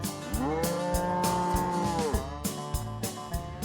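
Cattle on a Wyoming ranch moo loudly and close by, with several long, drawn-out calls that overlap and rise and fall across a few seconds, with no talking.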